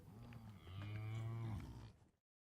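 A cow on a Montenegro farm lets out one long, loud, close moo that rises then fades, followed by silence.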